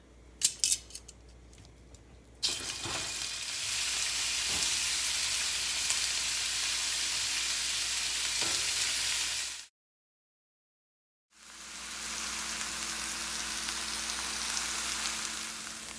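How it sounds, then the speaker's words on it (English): Meat searing in a very hot cast iron skillet for birria, a loud continuous sizzle and crackle that starts abruptly after a few clicks and scrapes, cuts out briefly, then resumes just as strong. "Now what we're going to do is sear the meat so we can give it a nice crust."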